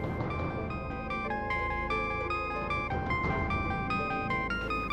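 A mobile phone rings with a bright, repeating electronic melody of stepped tones, playing continuously and fairly clearly with no talk over it.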